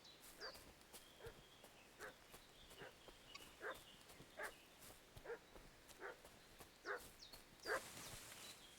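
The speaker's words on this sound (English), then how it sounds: "Oh man, hear that barking." Dog barking in the medieval game Kingdom Come Deliverance, about a dozen single barks spaced roughly evenly over several seconds, moderately distant and fairly faint, standing alone against a quiet outdoor background.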